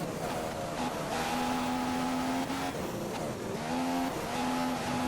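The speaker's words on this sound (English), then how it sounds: "Voodoo Infinity should be going flat out around this little bend in the track." Race car engine lapping the Suzuka circuit in a racing video game, a steady high-pitched whine rising and dipping through gear shifts and bends, continuous and fairly loud throughout.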